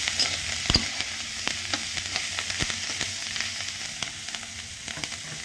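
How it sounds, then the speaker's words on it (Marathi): Green chilies roast in a pan, giving a steady close sizzle with scattered pops and crackles and an occasional stirring scrape, no talking. "आपण आता मिरच्या भाजून घ्यायचा आपल्याला आपल्या अंदाजानुसार"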